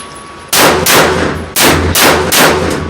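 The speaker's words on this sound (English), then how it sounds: "I'll be shooting 10 yards at the upper target, 3-shot with a lead soft nose." A Mitchell Arms .45 Colt single-action pistol fires lead soft-nose rounds at a target ten yards away: a rapid string of loud, sharp, close reports in two bursts, each ringing briefly, with no talk.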